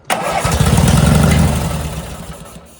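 A repaired crash-damaged car's engine cranks and catches, roaring up briefly before settling into a running rumble that gradually quiets.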